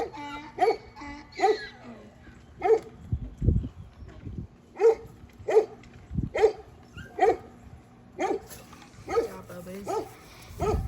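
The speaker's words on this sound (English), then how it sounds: "If you've been Barking at that hog." Dogs barking at a hog outdoors, a steady run of loud, evenly spaced barks repeating over several seconds, with a few low thuds between them.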